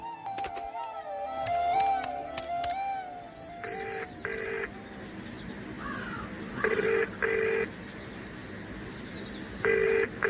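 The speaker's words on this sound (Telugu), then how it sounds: "నేను ఒక ఫోన్ చేసుకోరా." Telephone keypad dialing tones beep in short pairs of evenly spaced blips, repeating several times against soft background music and ambience.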